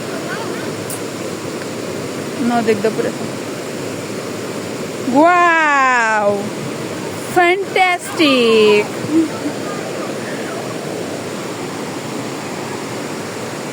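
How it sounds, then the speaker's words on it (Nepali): A large river rushes on a hike, its steady broadband roar filling the whole scene while voices speak and call out over it at close range. "एकदम ठुलो छ नि त यो खोलाको"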